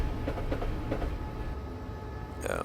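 A Class 377 EMU electric commuter train runs on rails in Train Simulator 2016, a steady low rumble with faint rhythmic clicks, alone without talk.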